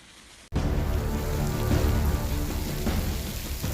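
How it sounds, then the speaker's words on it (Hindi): Heavy rain falls on a Sunday morning in Delhi after a short quiet moment. A dense, steady roar of rain on the surfaces begins abruptly and stays loud throughout, with no voices. "दिल्ली वालों की संडे की सुबह तेज बारिश के साथ हुई।"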